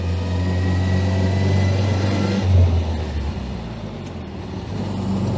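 A vintage 1925 Austin Seven without synchromesh drives along in winter, its small engine droning loud and close. The note swells and dips midway as the driver double-declutches into second gear.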